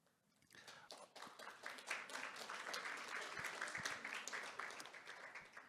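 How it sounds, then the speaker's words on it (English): Faint audience applause at a talk, a thin, distant patter of clapping that rises quickly and holds steady without growing strong. "I hoped that applause would be louder"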